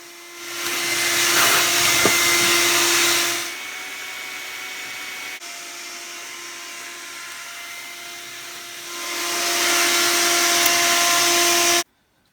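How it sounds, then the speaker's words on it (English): A shop vac runs up close while vacuuming debris off workshop counters, a loud steady whine and rushing hiss that swells and dips as the nozzle moves, before cutting off abruptly at the end. "I'm going to use the shop vac to sweep up all the stuff on the counters"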